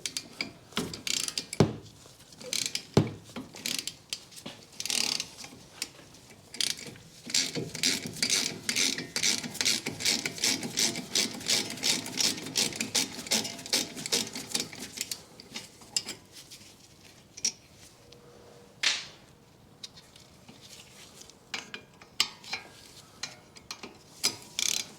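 A hand ratchet works loose thread-locked front brake bolts on a 2013 Mini Cooper D 1.6 diesel, close rapid clicking in long bursts with pauses, plus occasional metallic clunks.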